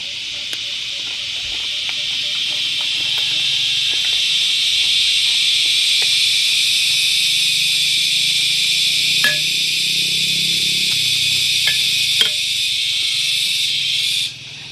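A dense chorus of crickets chirps steadily and shrilly for about fourteen seconds at an even loudness, with a few faint clicks scattered through it, before cutting off near the end.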